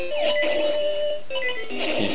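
A low-health warning alarm from the handheld video game Zelda: Oracle of Seasons, a repeating high electronic beep over chiptune game music, clear and fairly quiet.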